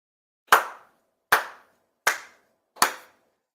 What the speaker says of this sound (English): 4 sincere claps along with the head officiant